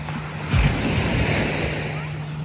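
Ocean surf washes in at Treasure Island Beach in St. Petersburg, Florida, a continuous close rush of breaking waves with wind buffeting the microphone.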